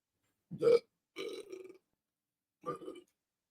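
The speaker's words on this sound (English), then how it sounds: "I burped." Three loud, guttural burps in a row, each short and close, separated by brief silences.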